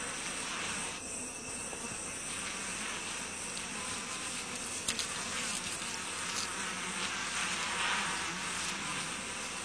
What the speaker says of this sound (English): The tiny sweat bees have no sting, but they get into eyes and up noses.